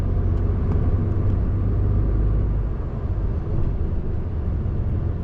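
Dense heavy traffic roars past on the M6 motorway near Birmingham's Spaghetti Junction, a loud continuous rumble of cars and larger vehicles that stays steady throughout, with no talking.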